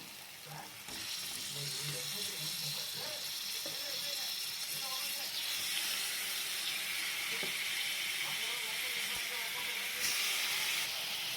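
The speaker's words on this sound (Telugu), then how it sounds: "ఇప్పుడు ఇది ఇలా కొంచెం పేస్ట్ అవ్వగానే మనం కడుక్కున్న చికెన్ ముక్కలను వేసుకోవాలి" Washed chicken pieces sizzle loudly in a pan of cooked-down tomato paste, a steady close hiss and crackle that runs throughout with occasional stirring scrapes and clinks.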